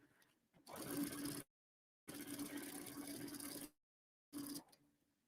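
Three bursts of a sewing machine running, each a rapid mechanical whir lasting about a second, separated by short silences.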